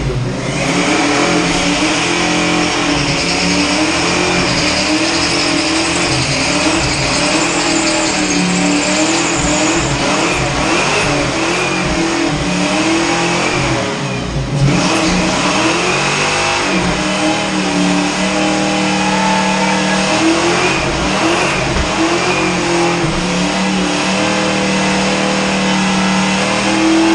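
A Cleaver car's engine revs hard and continuously, a loud, dense mechanical roar that rises and falls in pitch for nearly half a minute, with a brief dip in the middle before climbing again.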